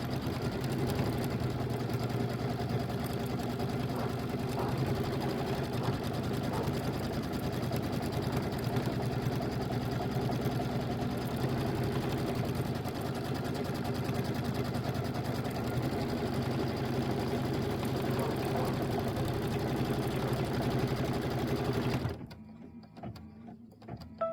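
A domestic embroidery machine stitches a Kimberbell Thanksgiving pillow design, a steady loud mechanical whir and rapid needle chatter running without pause for about 22 seconds before stopping abruptly.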